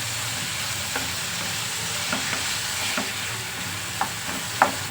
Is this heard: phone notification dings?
no